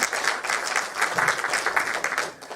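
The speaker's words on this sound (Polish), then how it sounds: "Jeśli Państwo myślą, że ja się zgodzę na takie oklaski" An indoor audience at a centenary event for Gustaw Herling-Grudziński applauds steadily, a dense, even wash of clapping from many hands throughout.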